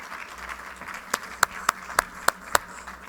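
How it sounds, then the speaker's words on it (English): A few scattered, separate claps sound at a conference, about half a dozen sharp hits spread irregularly over a low hum of room noise, rather than full sustained applause from a crowd. "a warm clap for Keke Levy from Facebook, please"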